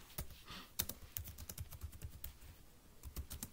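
Quick, uneven keystrokes tapped on a computer keyboard while entering code, close and fairly quiet, with sharp clicks in irregular bursts and no talking.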